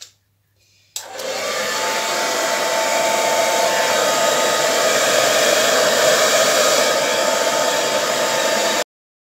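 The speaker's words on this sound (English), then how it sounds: "So I'm going to use the hairdryer to cover this." A hairdryer switches on with a click and blows steadily, a loud, even rushing whoosh with a faint motor whine that holds for about eight seconds before cutting off abruptly.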